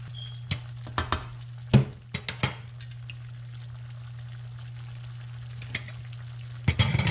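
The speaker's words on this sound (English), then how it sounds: "And add our tomatoes. I hear it's simmering." Tomatoes simmer and sizzle softly in a pan for bistec ranchero, a quiet steady crackle over a low hum, broken by several sharp clinks and scrapes of a utensil against the pan.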